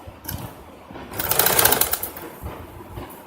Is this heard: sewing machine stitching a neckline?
yes